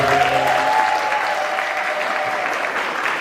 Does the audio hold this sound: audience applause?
yes